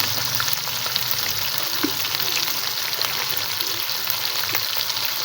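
Fresh turmeric fries in a pan for vegetable pulao, a steady even sizzle with faint stirring clicks, close and continuous with no talking.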